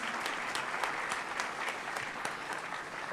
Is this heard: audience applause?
yes